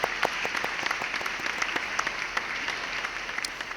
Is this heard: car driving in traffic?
no